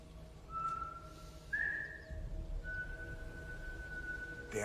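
A man whistles a thin, steady tune with sustained held notes, moderately loud over a dull low rumble of background noise, with a brief sharp sound near the end.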